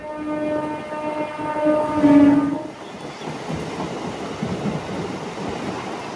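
Visakhapatnam to Parvatipuram MEMU Express train rumbling along near Simhachalam, with a steady tonal hum that fades out after about two and a half seconds, leaving a continuous rattling roll of the carriages.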